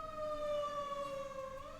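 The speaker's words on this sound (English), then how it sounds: "That fire truck siren in the back is to put out the rage fires." A fire truck siren wails faintly in the distance, a steady sustained tone that drifts slightly in pitch across the short stretch.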